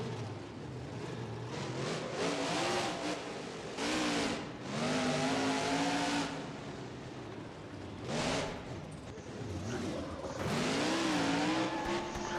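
Monster truck engine in BeamNG.drive revving and surging in repeated waves, loud and close, with pitch climbing and dropping between bursts and some tire noise, no talking.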